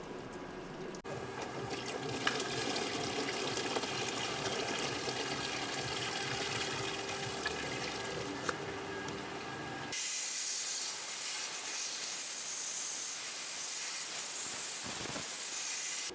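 Fluid drains and hisses steadily from the coolant system of a 2019 Mercedes-Benz G 550 during a coolant flush, a continuous rushing noise that turns brighter and thinner partway through, with no talk.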